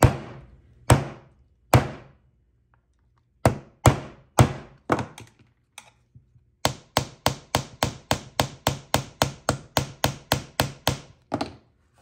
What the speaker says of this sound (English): Take your number 2 copper rivet setter and peen that head.